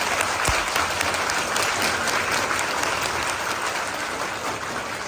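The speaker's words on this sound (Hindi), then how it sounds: "एक बार जोरदार तालियां।" A crowd claps loudly and steadily, dense applause filling the whole stretch without letup.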